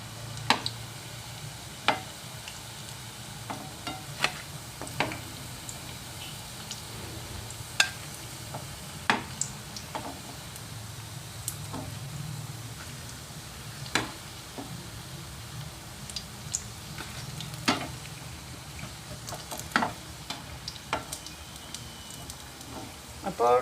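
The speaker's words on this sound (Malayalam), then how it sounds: "ഇനി ബാക്കിയുള്ളത് കൂടി പൊരിച്ചെടുക്കാം." Sweet potato vadas deep-fry in hot oil, giving a steady soft sizzle with scattered sharp crackles and pops, heard close and fairly quiet.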